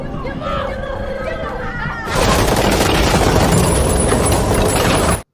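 Dense, continuous gunfire from a shootout between guards in a civil-war film, breaking in abruptly after quieter talk and background sounds, then sustained loud bursts and booms until a sudden cutoff.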